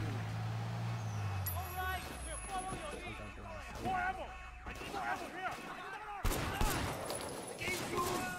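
Gunfire rings out in a Sleeping Dogs gunfight after an armed robbery, with repeated shots and bursts spread across the scene, some near and sharp, heard under ongoing voices and vehicle-like rumble.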